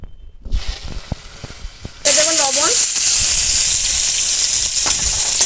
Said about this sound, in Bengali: কড়াইতে সরিষার তেল দিয়ে দিলাম মাছের ঝোলের জন্য আমি প্রথমে আলুগুলো ভেজে নেব